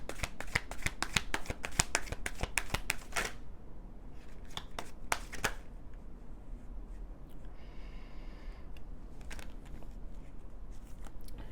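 Tarot cards being shuffled up close, a quick run of crisp riffling snaps followed by a few scattered card flicks and soft handling sounds in a quiet room.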